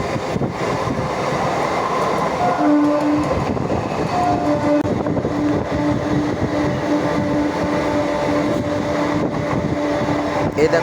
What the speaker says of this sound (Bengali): আর ডাউনে এই যে ট্রেনটা যাচ্ছে পাশ দিয়ে